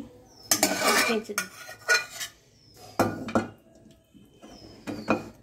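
Cooked potol, potato and coconut curry is tipped from a metal pot, with several loud clattering bursts of utensils scraping and knocking against cookware, separated by short pauses.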